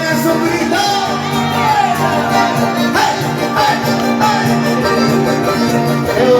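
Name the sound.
crowd of single girls shouting at a festival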